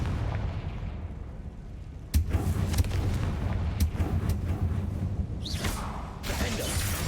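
Confringo blasting spell explosion in Hogwarts Legacy: a sharp, loud blast bursts in near the start, followed by crackling, rumbling debris and further impacts, with a whooshing swell late in the clip.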